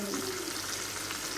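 Potato and spinach with crushed green chilli and masala fry in a pan, giving a steady, soft, continuous sizzle with no talking over it.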